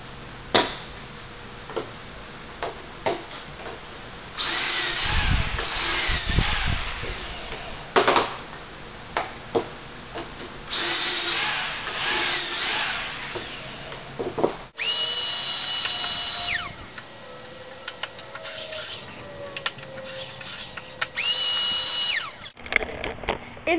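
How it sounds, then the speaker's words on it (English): A power drill bores holes in 2x4 wooden troughs in several loud whirring bursts separated by pauses. Clicks and clunks of the wood shifting come between the runs, and a different, steadier high drill tone takes over later. "Now to drill all of the holes in those."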